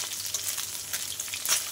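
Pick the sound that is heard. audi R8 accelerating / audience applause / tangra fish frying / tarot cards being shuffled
tangra fish frying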